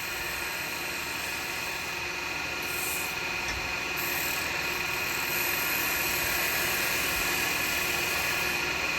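Carbide chisel cutting a spalted wood vase turning on a lathe gives a continuous close, steady hiss and scrape over the constant hum of the machine, with no talk.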